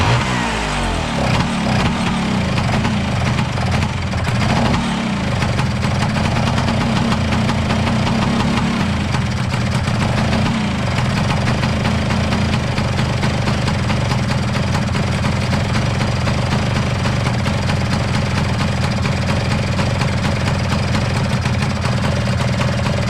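A Vespa scooter engine, just kicked over, runs steadily with a loud, knocking mid-pitched idle and uneven low rumble that continues throughout, with a brief surge near the start.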